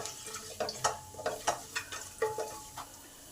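Chopped garlic frying in oil with cumin and chilli, stirred in a pan, giving a series of short scraping, sizzling bursts at a steady stirring rhythm, close and moderately quiet with no talking.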